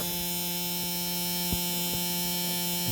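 A gear pump emptying the ballast tank of a 1/72 radio-controlled Suffren submarine gives a steady electric whine and hum, with faint clicks now and then.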